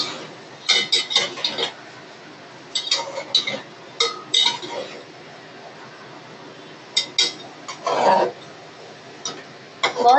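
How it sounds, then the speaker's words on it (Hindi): Fish head curry is stirred in a pot, village style, with scattered soft scrapes and clinks of a utensil against the pot in short bursts separated by quiet gaps. "चलिए एक बार इसे मिक्स कर लेते हैं"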